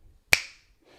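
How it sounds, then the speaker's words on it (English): One crisp finger snap rings out alone, sharp and close, fading quickly into silence. "Snap of the fingers."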